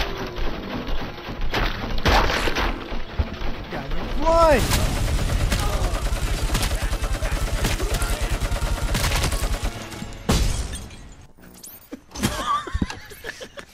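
Heavy machine gun fire in the video game Robocop: Rogue City, a long sustained rapid burst with thuds and impacts, loud and close, under excited talk and shouts from players.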